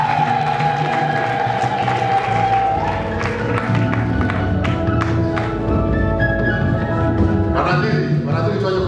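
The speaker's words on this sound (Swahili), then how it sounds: "Tuwapongeze kwa makofi." Applause in a church for newly professed nuns at a vows ceremony before an archbishop, a loud, sustained crowd clapping with cheering and ululation mixed in, other sounds and voices present throughout.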